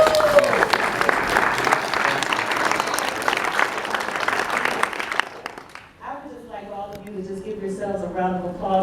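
A crowd at a book launch claps loudly and steadily for about six seconds, a few voices calling out over it, then the applause cuts off and a single voice begins talking clearly.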